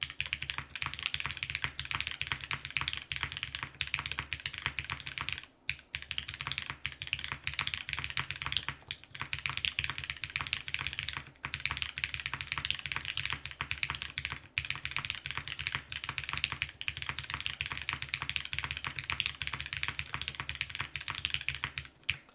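Someone types on a Rin60 60% keyboard with filmed, spring-swapped switches lubed with 205, top mount and aluminum plate. The rapid, fairly quiet clacking runs steadily throughout.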